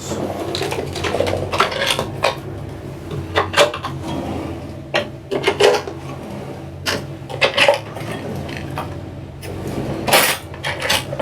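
Storage drawers aboard a Sirius 35DS sailboat being pulled open and pushed shut, a series of sharp wooden knocks, thuds and sliding clatters at irregular intervals, close and fairly loud.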